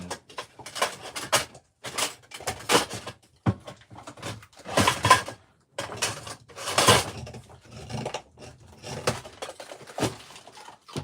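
Someone rummages through utensils at home looking for a spoon, producing close, irregular bursts of clattering, shuffling and knocking separated by brief pauses.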